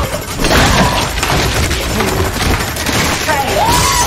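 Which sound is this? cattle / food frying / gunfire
gunfire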